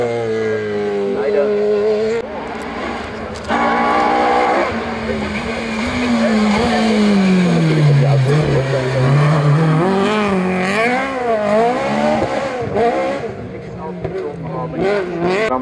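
A race car rebuilt from a bare shell roars through a bend at the Wolsfeld hill climb, its engine note rising and falling steadily and loud throughout, with a commentator talking over it.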